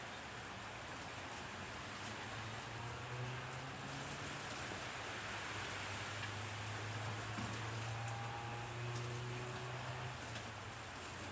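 Steady rain falls outdoors as a soft, even hiss with a faint low rumble beneath, continuous and fairly quiet throughout.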